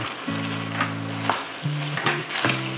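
Cuttlefish stir-frying in a pan after sesame oil is poured in, a steady close sizzle with short bursts and scraping stirs, alone without talk.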